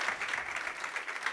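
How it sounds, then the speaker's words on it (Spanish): Audience applauding at the close of a talk on the business reality of free software, a steady even patter of clapping that stays moderately loud for about a second, with no voices over it. "pues un fuerte aplauso"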